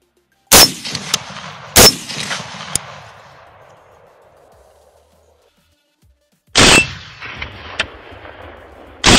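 A .450 Bushmaster rifle fired at a feral hog on a hunt: loud, sharp outdoor shots with long rolling echoes, two close together near the start and another later, separated by quiet.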